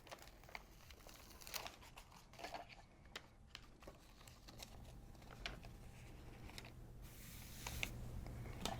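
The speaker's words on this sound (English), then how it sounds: "So let's peel our tape off our paper." Wall vinyl lettering tape being peeled off its paper backing for a wedding display, a soft, continuous crinkling and crackling with scattered small ticks, close and fairly quiet.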